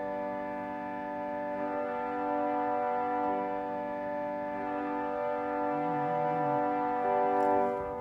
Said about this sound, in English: So here's our unison string, and then I'm going to add the celeste rank.